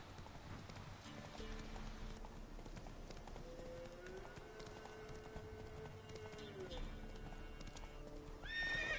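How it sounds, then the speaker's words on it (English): A horse gallops in The Witcher 3 with continuous hoof clatter and a neigh, set against the game's music and ambient sound. "Run, Roach."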